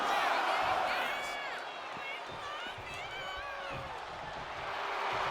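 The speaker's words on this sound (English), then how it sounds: "Jacob Fatu feeding off the crowd, feeding off their energy" Wrestling crowd cheering at a match featuring Jacob Fatu, a steady, loud arena roar with rising whoops, while a commentator's voice runs over it throughout.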